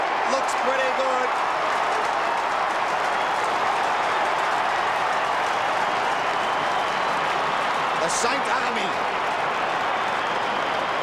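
St Kilda supporters roar after their side kicks a goal at a 1997 Australian football match against Richmond, a dense, sustained crowd cheer with applause filling the whole stretch, while a commentator speaks over it.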